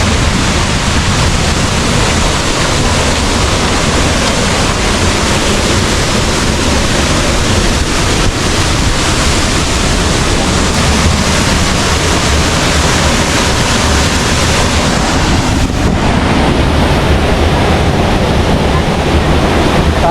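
Hulugan Falls in Laguna pours in a steady, loud, broadband roar of rushing water that runs unbroken for the whole stretch, with no talk and no pauses.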